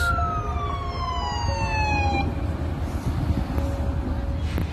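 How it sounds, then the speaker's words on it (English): A wailing ambulance siren sweeps downward, then fades into a steady roar of traffic and street noise, with faint voices in the background. "Comes the ambulance."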